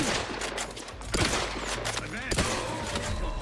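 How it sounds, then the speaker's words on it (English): Shotgun blasts in a game played alongside a necromancy mod: several sharp, loud bursts, each decaying quickly, set over a busy background of battle noise and other effects, with no talk. "This shotgun is that good."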